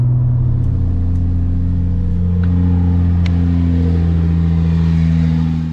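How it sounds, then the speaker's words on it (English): A Porsche 996 Turbo engine with a fault runs at a high idle, a loud, steady, close droning hum with a slight lift in pitch partway through and a few faint clicks. "You can hear the high idle here and just how bad it is."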